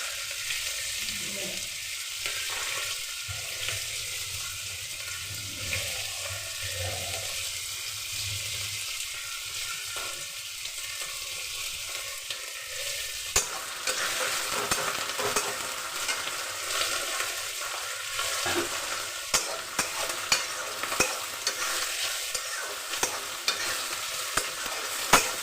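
Pieces of fish frying in a hot pan and being stirred, with a steady oily sizzle and repeated scraping stir strokes that grow busier and louder partway through; no one talks.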